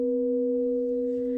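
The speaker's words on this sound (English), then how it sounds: "432 Hz harmonic tones" Steady 432 Hz harmonic sine tones hold perfectly even, two pure pitches layered together and sustained without change, loud and alone with no other sound.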